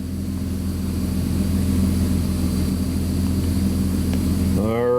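A car engine idles steadily with a low, even drone, a fuel-system fault logged as trouble codes P0170 and P0173; a voice begins speaking near the end.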